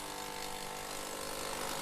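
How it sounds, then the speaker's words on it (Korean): Loud construction work in a quiet mountain village after an earthquake, a dense continuous grinding and rattling noise of power tools, harsh and steady throughout. "조용하던 산골 마을에 울려 퍼지는 요란한 공사 소리."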